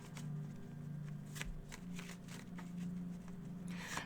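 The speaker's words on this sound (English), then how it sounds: "let me just look at the card and shuffle these cards" A deck of tarot cards is shuffled up close in a steady, continuous riffling patter with brief louder flicks, under a soft background hum and with no talking.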